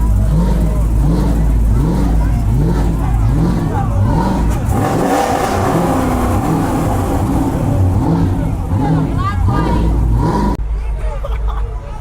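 A 600-horsepower Dodge Challenger Scat Pack revving repeatedly at a late-night car meet, loud rhythmic engine surges rising and falling, with a crowd's chatter and voices around it, cutting off near the end.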